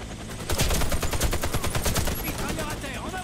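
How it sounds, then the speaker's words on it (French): Automatic gunfire in the video game Warface erupts after a brief lull into rapid, loud, sustained bursts of shots that continue to the end. "Moi des fois je tire par coup mais bon j'aime bien tirer aussi comme ça après"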